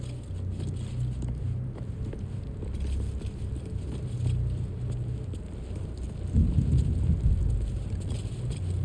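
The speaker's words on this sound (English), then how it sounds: "Is that thunder?" Deep, rolling thunder from the video game Baldur's Gate 3 rumbles over a steady bed of rain-like ambience. It swells louder near the end, with no voices over it.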